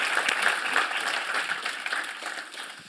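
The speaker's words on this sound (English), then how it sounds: "Big round of applause" At an academic conference on innovation, the audience gives a round of applause, lively clapping from many hands, close and continuous, easing off slightly near the end.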